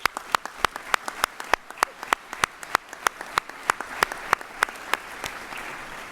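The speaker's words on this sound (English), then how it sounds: "So let's give them a round of applause." A small crowd at a university graduation ceremony claps in a steady, evenly spaced rhythm, sharp distinct hand claps continuing for several seconds without voices.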